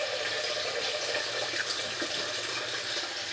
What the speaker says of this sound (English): take the pot, fill it with water